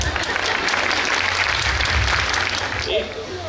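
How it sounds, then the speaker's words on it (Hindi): An audience at an Independence Day celebration applauds heartily after a dance performance, a loud, dense run of clapping that continues throughout, with a voice talking over it near the end. "ताली कौन नहीं बजाता, मैं देखती हूँ"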